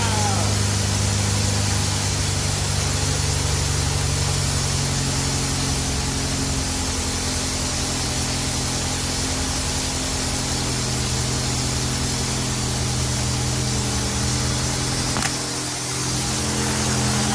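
An Austin A30 engine, cold and just started, runs with a steady, loud, continuous mechanical hum and hiss at close range, with no talking over it.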